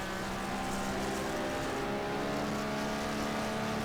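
A Corvette and other fast race cars drive on a track, their engines droning loudly and continuously with a steady tonal whine throughout, close and unbroken.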